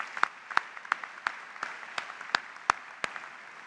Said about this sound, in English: Let's give them a round of applause for what they did for all of us tonight